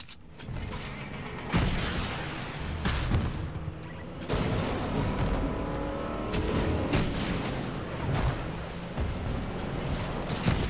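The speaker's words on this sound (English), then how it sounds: "They're yeeting in a car because they're scared of us." Enemies speeding away in a car in a video game, a loud engine roar mixed with rumbling, splashing and clattering noise, steady throughout with sharp thumps along the way.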